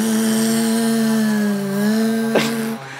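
A person's voice imitates a chainsaw, a steady buzzing drone with shifting pitch held for nearly three seconds, close and loud, ending with a rough sputter.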